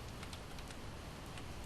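Steady rain in the Project Zomboid video game, a soft continuous hiss of falling drops with faint scattered pattering, quiet and unbroken throughout with no voices.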